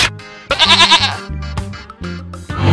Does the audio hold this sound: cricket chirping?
no